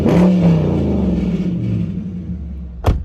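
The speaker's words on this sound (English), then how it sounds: "let's just give it a little rev right here. You can hear it." A 2019 Dodge Charger R/T V8 revs loudly up close, its deep engine rumble swelling and then settling into a steady idle, with a short sharp burst near the end.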